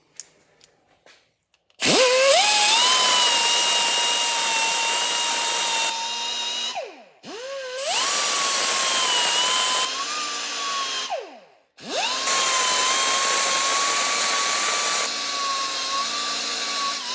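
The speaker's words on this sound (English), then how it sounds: "wire wheel, and I'm going to clean off all these valves, all the carbon, all the crap on them" A power-driven wire wheel scrubs carbon and rust off Subaru Sambar engine valves, whining at a steady high pitch in three sustained runs with brief spin-downs and dips between them, loud and close.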